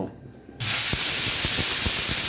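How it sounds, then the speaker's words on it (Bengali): A pressure cooker with mutton for a Bengali-style curry inside suddenly vents its whistle, and a loud, steady, high hiss of escaping steam starts abruptly and continues without pause, with faint thumps beneath. "প্রেসার কুকারের ঢাকাটা বন্ধ করে 5 থেকে 6টা আমি সিটি দিয়ে নেব"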